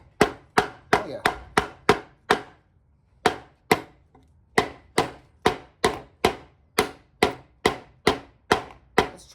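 Valhalla Tyrannosaurus rex folding knife chopping into wood, a steady series of about seventeen sharp, loud thwacks close by, evenly paced with one short pause near the middle.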